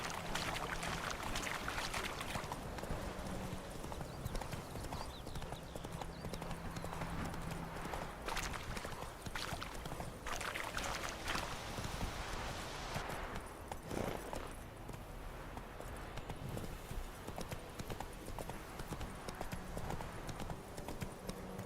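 Clip-clop of Roach the horse trotting in The Witcher 3, a fast, even run of hoofbeats holding steady throughout, with a brief faint whinny and ambient game sounds underneath.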